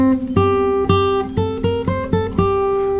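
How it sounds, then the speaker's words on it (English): Fingerstyle acoustic guitar playing a xylophone-like riff from a song in a plain, ringing version: seven or eight close, evenly spaced plucked notes that sustain into one another, with no speech. "So this little xylophone part, instead of sounding like this"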